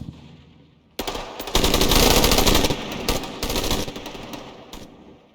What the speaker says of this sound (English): And I have a machine gun.